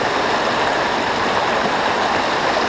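A brook trout stream rushes over rocks and fast riffles, filling the clip with a loud, steady broadband roar that never pauses, close by and with no voices.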